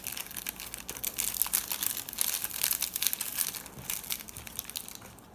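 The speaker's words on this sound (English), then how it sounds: "Pour all the croutons inside." Dry croutons rattle and crinkle as they are poured into a bowl, a continuous, fairly close, busy crunchy patter that tapers off toward the end.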